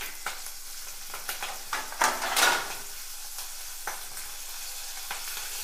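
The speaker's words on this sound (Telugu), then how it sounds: "మిరపకాయలు అయితే నూనెలో వేస్తున్నాను" Whole, uncut green chilies drop into hot oil with a sudden loud crackling burst that quickly settles into a steady frying hiss, broken by a few sharp clacks of a lid or pan.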